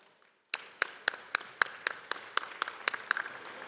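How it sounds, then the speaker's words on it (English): An audience at an awards ceremony claps after a short silence, the applause falling into a quick, regular rhythmic beat of crisp hand claps that is fairly distant and moderately quiet. "Let's give them a round of applause."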